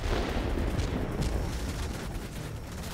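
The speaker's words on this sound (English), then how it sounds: "Bombs away." Bomb blasts from the World of Warplanes game, a dense, continuous rumble of low booms and crackling explosions filling the whole stretch at steady loudness, no talk over it.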